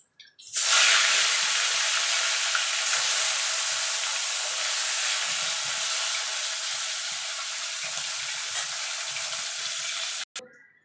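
Pieces of fish frying in hot oil for a Bengali fish curry give a loud, steady sizzle and spatter that runs unbroken for about ten seconds, then cuts off abruptly near the end.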